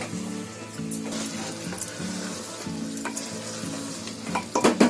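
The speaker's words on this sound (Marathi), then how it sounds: "त्याच्यासाठी 2 मिनिटं फिरवून घ्यायचं." Tomatoes for pav bhaji are stirred and sautéed in a pan, giving a soft sizzle with repeated spatula scrapes. Louder clinks against the pan come near the end, and music plays quietly underneath.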